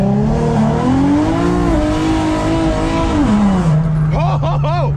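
Naturally aspirated Infiniti G37 on its first drive in months with no wheel alignment, engine droning loud and close as it pulls through rising revs, a gear change near the end, with a voice breaking in over the motor.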